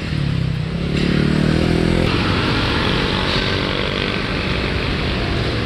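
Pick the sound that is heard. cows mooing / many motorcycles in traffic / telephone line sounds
many motorcycles in traffic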